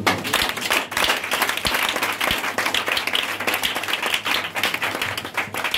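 Church congregation applauding at a service, dense steady clapping from many hands that carries on without a break, with a faint voice barely present underneath.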